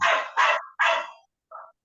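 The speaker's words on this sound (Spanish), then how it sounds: "Está enloquecido ese perro." A dog barks excitedly three times in quick succession, loud and close, then gives a fainter, shorter fourth yip after a short pause.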